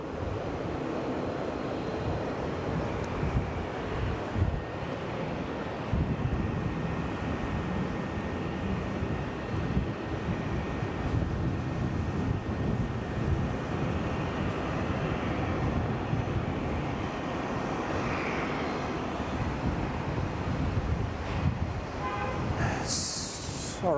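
A Jetstar airliner arriving at Brisbane from Hobart gives a steady, broad jet roar that holds from a moderate distance throughout, with faint voices in the background.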